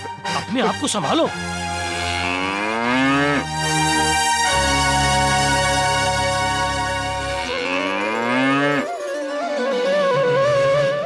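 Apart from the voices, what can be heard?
bull Gondiya mooing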